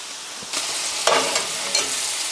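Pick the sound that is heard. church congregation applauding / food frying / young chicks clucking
food frying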